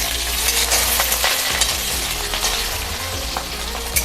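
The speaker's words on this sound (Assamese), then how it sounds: "আৰু এতিয়া বঢ়িয়াকৈ এইখিনি ভাজি দিম" Sliced onions and cardamom frying in oil for chicken biryani, a loud dense sizzle close up with scraping stirring strokes throughout, nobody speaking.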